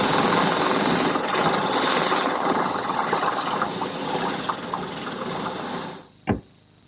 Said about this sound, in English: Now here I've installed a 2-inch drum sander in my drill press.